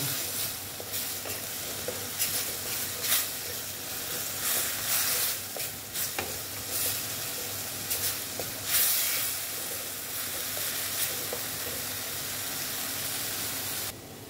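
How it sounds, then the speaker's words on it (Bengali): A spice masala sizzles and hisses in a hot pan as it is sautéed for aloo dum, with a constant fry broken by intermittent scraping stirs of a spoon, close and steady throughout. "দিয়ে এবার আমি এটাকে ভালো মতন কষিয়ে নেব।"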